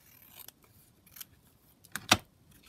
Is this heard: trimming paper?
yes